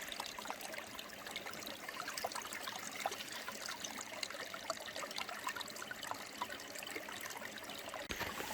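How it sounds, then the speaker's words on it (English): A small stream trickles steadily and softly, a continuous broadband wash of water with no voices. "There's a little side stream."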